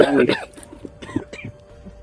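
A short burst of coughing near the start, followed by quieter voices and rustling; a faint steady tone hums underneath.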